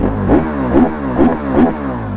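A 2013 KTM 1190 Adventure motorcycle engine revs up in four quick rhythmic throttle blips, loud and close, with no talking.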